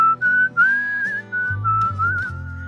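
A melodic whistled line in the spaghetti-western style from the Hellsing anime soundtrack glides and wavers in long held notes over a low bass accompaniment.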